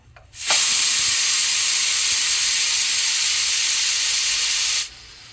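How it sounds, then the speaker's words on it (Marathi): A pressure cooker of green pea rassa bhaji, already past two whistles, vents its steam in one loud, steady rushing hiss that starts abruptly, holds for about four seconds and cuts off. "आता आपण कुकरची पूर्ण वाफ आहे ती लगेचच काढून घ्यायची आहे"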